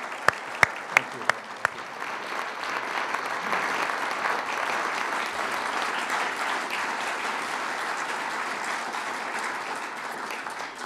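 A hall audience claps steadily after an Indiana Humanities conversation event at Ball State University, a few sharp isolated claps at the start before dense, even applause settles in and holds without a break.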